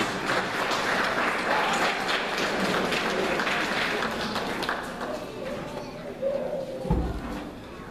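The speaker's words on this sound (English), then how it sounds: "Round of applause." Applause from an audience of a few hundred at a magic show, a steady broadband wash of clapping throughout with a loud thump near the end and voices murmuring underneath.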